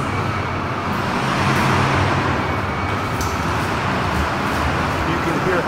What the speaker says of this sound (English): What you heard are those howling winds coming from that hotel that he is in